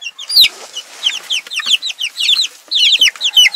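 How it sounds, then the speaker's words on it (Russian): Hens in a poultry yard cluck in rapid, bright, overlapping bursts, loud and close, with brief pauses between runs and no speech. "Да, курочка, какая красавица."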